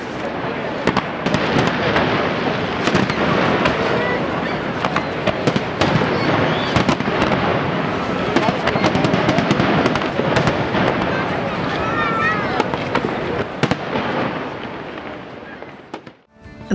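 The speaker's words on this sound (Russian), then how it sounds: "на канадской стороне устроили грандиозный фейерверк." Dense, continuous fireworks at Niagara Falls, seen from across the Canadian border, with crackling bursts and booms going off rapidly for the whole stretch, loud and busy, with crowd voices mixed underneath.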